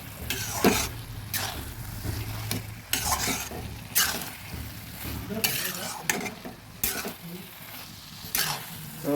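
Cabbage frying in a pan is stirred repeatedly, with a soft steady sizzle under rhythmic scraping strokes of a spoon against the pan, close and moderately quiet.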